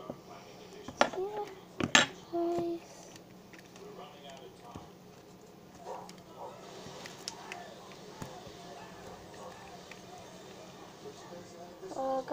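Slime is mixed in a bowl, giving scattered clinks, taps and soft squelchy knocks, with a couple of louder hits early on, while a person talks over it.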